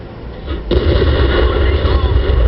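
Tank cannon shot in World of Tanks: a sudden loud blast cutting in over an ongoing rumble, then a sustained dense roar close by.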